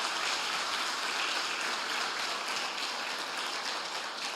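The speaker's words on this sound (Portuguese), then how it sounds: "Vamos aplaudir o nosso Deus bem forte." A church congregation applauds strongly and continuously, a dense wash of clapping that holds at an even level from start to finish with no pauses.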